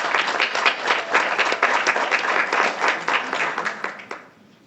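Audience applause at a county board meeting: dense, steady clapping from many hands that holds strong for about four seconds, then thins and fades away at the end.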